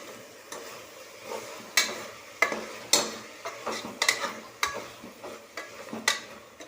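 Mint and coriander leaves with green chillies sautéing for quail biryani under a soft sizzle, punctuated by regular scraping and tapping strokes of a stirring spoon against the pan, close up, with no voices.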